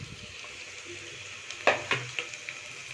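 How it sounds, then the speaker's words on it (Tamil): Tomatoes fry in a pan with onions and curry leaves, a soft sizzle under a few spatula scrapes and clacks as they are stirred, close by. "தக்காளி சேர்த்தி நல்லா கிளறி விட்டுட்டு"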